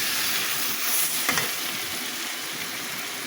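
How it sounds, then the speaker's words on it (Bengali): Bitter gourd fries in mustard oil with a steady, bright sizzle and a brief stirring scrape midway, close and unbroken, with no voices. "করলাটা আমি ভালো করে ভেজে নিচ্ছি।"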